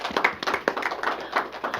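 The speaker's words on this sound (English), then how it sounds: "Give her a round of applause." Close, lively clapping from a small group honouring a spelling bee contestant, steady and unbroken for the whole stretch with no talk over it.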